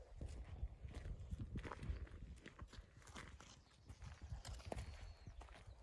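Hooves of a ridden horse testing a newly fitted saddle clip-clop in a steady walking rhythm, faint and somewhat distant, with no talk.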